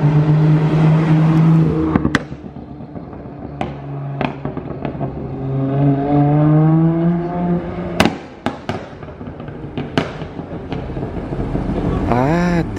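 Loud, sharp exhaust backfire pops crack out in a rapid cluster from a passing Mercedes C63 AMG with a modified, non-stock exhaust on the streets of Monaco, scattered over revving engine drone, with a second burst later.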